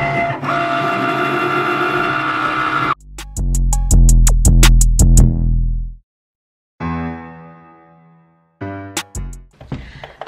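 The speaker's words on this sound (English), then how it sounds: "Now we wait for it to cut out everything." A Cricut cutting machine cutting a template on its mat, with a steady whirring motor, then rapid mechanical clicks and buzzing carriage moves, pauses of silence and short bursts of stepping noises, close and loud.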